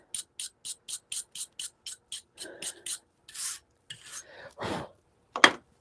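Hand file rasping across the steel of a forged Bowie knife blade, itself forged from an old hand file: about a dozen evenly paced push strokes, close and crisp, then a few irregular scrapes and a puff of blowing dust.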